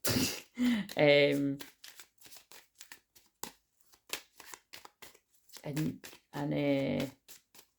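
Tarot cards are shuffled in quick, crisp riffling bursts and soft taps, close by, with a person speaking in between the shuffles.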